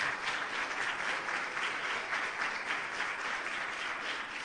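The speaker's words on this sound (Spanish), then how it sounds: "Un fuerte aplauso" Church congregation applauding during a sermon, a dense, continuous roar of many hands clapping at steady loudness throughout, with no voices standing out.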